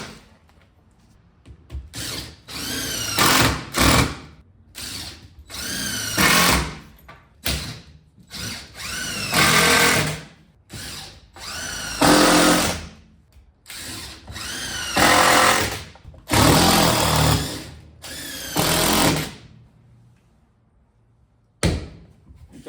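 A power drill whirs in repeated bursts of a few seconds each, drilling holes in a wood deck railing, starting and stopping with short pauses, close and loud.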